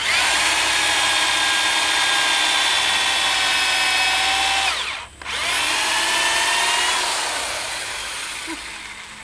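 A power drill bores a pilot hole in hard oak for a beehive stand, its motor whining steadily near at hand, dipping briefly midway as the bit bites, then running on and slowly winding down.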